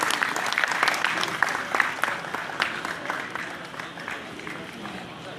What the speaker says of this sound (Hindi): तालियों के साथ स्वागत कीजिए हमारे ग्रुप एडिटर की नाविका जी